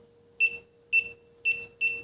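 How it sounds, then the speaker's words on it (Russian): A WinAPEX 268B clamp multimeter's buzzer beeps near live voltage at an electrical panel: four short, bright beeps that come closer together, over a faint steady mains hum. "тем чаще мигает светодиод и звучит зуммер"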